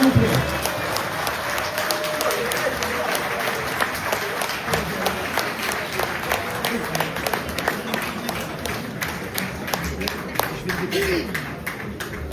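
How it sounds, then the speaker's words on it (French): A crowd at a Kabyle political gathering applauds as a figure is called onto the stage, sustained clapping with sharp individual claps mixed in, crowd noise and voices talking over it throughout. "Vos applaudissements s'il vous plaît."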